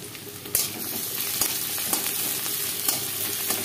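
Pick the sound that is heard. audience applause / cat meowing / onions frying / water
onions frying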